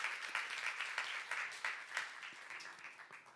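Soft clapping from a church youth congregation, individual hand claps audible in a loose, uneven patter that gradually fades, heard quietly as if from a distance.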